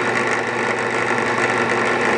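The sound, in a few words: drill boring through a book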